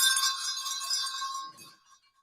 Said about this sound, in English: These are like legit real Yeah, sleigh those are bells.